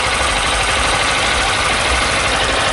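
A warm Honda Titan 160 motorcycle engine idles with a steady, even, close-up drone that holds at constant loudness throughout, with no talking.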